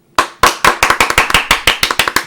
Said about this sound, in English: Okay, we are still clapping.